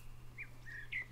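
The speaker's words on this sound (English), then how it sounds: "Oh, they're just birds." Three short, faint bird chirps from a Minecraft modpack game sound one after another over a low, steady hum.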